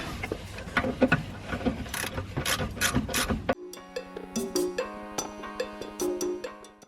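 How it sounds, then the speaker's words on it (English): A ratchet tightens the bolt on the rear lower control arm of a Ford Focus RS during a Whiteline toe arm install, with rapid clicking pawl strokes in bursts, first amid clattering handling noise and then cleaner, close and moderately loud. "so I've got that bolt in reasonably, but obviously not completely tightened up"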